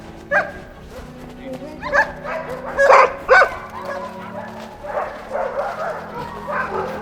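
Sled dogs at a pre-race checkup give several sharp barks and yips, some close and loud, others further off, over a narrator's continuous voice.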